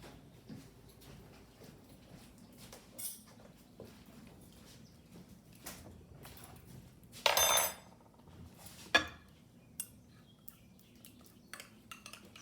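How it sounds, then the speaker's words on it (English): A spoon stirs nutmeg, cinnamon and sugar together in a bowl, giving faint scattered scrapes and clinks with a couple of louder knocks against the dish, no talk. "So get all of our nutmeg and cinnamon and sugar stirred up."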